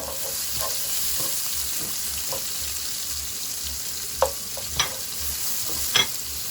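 A steady sizzle of a chopped dry onion sautéing in a pan, with a few sharp scrapes and taps of a utensil stirring near the end.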